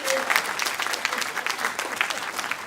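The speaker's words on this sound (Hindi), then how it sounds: "तालियां" An audience at a Hindi poetry event breaks into dense, steady applause, loud and close, with scattered voices in the crowd.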